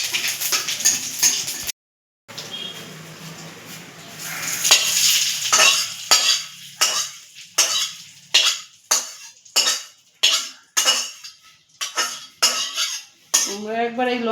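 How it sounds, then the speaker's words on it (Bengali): A metal spoon scrapes and clanks against a pan as boiled potatoes are mashed with fried dried-chilli oil and cumin tempering, a steady rhythmic series of close, loud scraping strokes after a brief sizzle. "এই তেলটা দিয়ে আলু সিদ্ধটা মাখাবো।"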